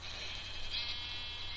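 Sheep in a Minecraft field giving a steady, slightly buzzing, lagging bleat that holds at an even, moderate level throughout, alone with no talk.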